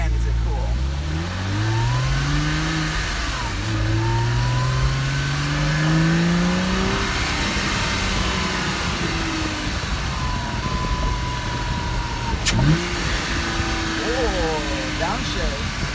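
Porsche Cayman engine heard from inside the cabin with the engine cover removed and the rear hatch closed, loud rising revs sweeping up through several gears with a shift blip, over road rumble while a person talks.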